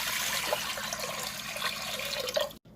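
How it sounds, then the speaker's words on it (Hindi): Water pours steadily from a container into a cooking pot to boil potatoes for Sindhi biryani, a continuous splashing, gurgling stream that stops abruptly at the end. "सबसे पहले हम आलूओं को बॉईल करेंगे तो देचकी में डालेंगे 1 लीटर पानी"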